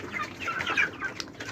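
White chickens kept at home cluck softly at close range, a short burst of busy, overlapping fowl calls with no talking.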